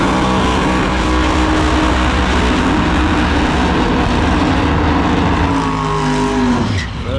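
A blown, alcohol-fuelled drag racing car at Sydney Dragway roars loudly and steadily at close range, its pitch rising through the run before the sound drops away abruptly at the end.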